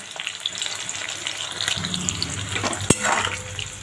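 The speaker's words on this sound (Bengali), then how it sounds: "পেঁয়াজ লঙ্কা দুটোই খুব সুন্দরভাবে ভাজা হয়ে গেছে" Onion and green chili sizzle and crackle steadily in hot oil, with a sharp utensil clink partway through as they are stirred.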